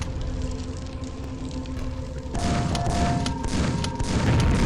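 Grenades blast in Quake Remastered, a dense run of loud booms and crashing thuds over steady game rumble that grows heavier in the second half, with rapid overlapping impacts.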